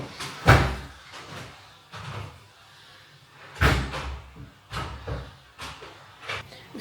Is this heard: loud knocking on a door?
yes